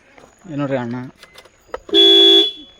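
A vehicle horn gives one loud, steady honk of about half a second, close by, just after someone speaks briefly.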